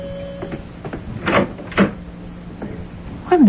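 A door in an old-time radio drama is opened for a visitor, with soft knocks and a latch, then a creak and wooden clunks, close and moderately loud, ending in a squeaky rising creak.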